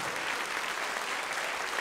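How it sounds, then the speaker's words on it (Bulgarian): Audience at a folk dance ensemble's anniversary concert applauds steadily, a dense, even wash of clapping from many hands that stays loud throughout without voices. "бурни аплодисменти за представителен танцов състав Шарена Гайда"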